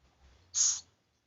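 A bird without eyes gives a single short, hoarse call, close and fairly loud, with near silence before and after.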